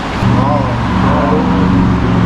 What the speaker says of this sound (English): this is a truck that is going out